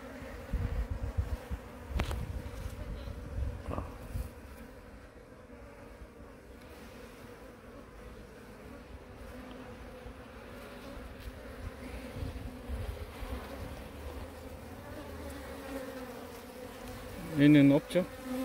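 Native honeybees hum and buzz steadily at a beehive during a close hive inspection, with a faint, continuous drone and a few louder buzzes passing close by.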